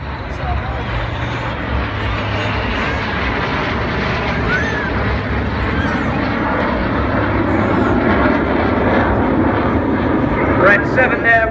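RAF Red Arrows BAE Hawk jet trainers in a flying display pulling up at high speed, a loud sustained jet roar building slightly over time beneath continuous commentary.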